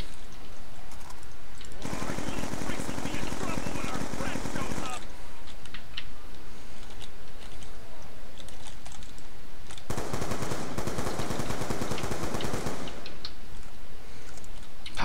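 Automatic weapon fire from Black Ops 2 Zombies on the Buried map erupts in two long, dense bursts, each lasting a few seconds, with a quieter stretch of game noise between them.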